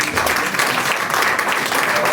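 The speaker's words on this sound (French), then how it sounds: "le manager Safi, docteur Akbo, que je vous demande d'applaudir." A crowd at a company gathering in Togo claps steadily throughout, a dense, sustained round of applause with no pauses.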